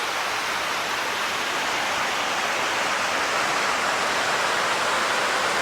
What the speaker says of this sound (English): right there's the waterfall